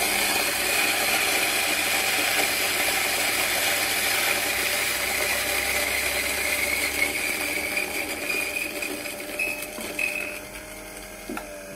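Rasamala coffee beans, 20 grams, being ground to a coarse setting, giving a steady, continuous mechanical grinding and rattling that stays loud and close for the whole stretch and eases off slightly toward the end.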